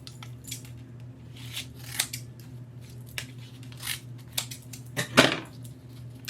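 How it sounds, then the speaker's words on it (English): Scissors snip card down to size for a craft project, a few close, crisp cuts spaced out against quiet room tone, with one sharper closing snip near the end. "I'm gonna do the same thing to a card and cut it down to the card size."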